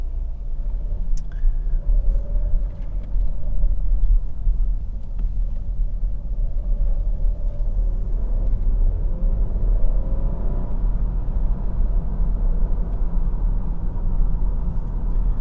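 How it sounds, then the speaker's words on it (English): Interior of a Skoda Octavia III 1.8 TSI with a DSG dual-clutch gearbox on the move, a steady low engine and road rumble with soft tyre hum running throughout, no talking. "It is very nippy, changing gears up and down thanks to the double clutch gearbox."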